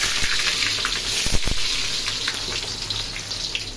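Chopped onion dropped into hot oil for Bengali chicken kala bhuna, giving a steady broadband frying sizzle with a few brief louder crackles near the start, close and continuous throughout.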